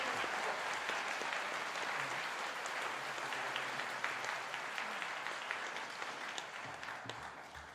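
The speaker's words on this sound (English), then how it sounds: "could we have a round of applause for the Maritime Brass Quartet for the beautiful music?" Sustained applause from a convocation audience for the Maritime Brass Quartet, a dense, steady wash of many hands clapping that holds at full strength throughout and tapers only slightly toward the end.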